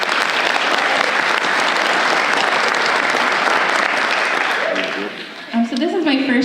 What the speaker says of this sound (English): so you also deserve a round of applause.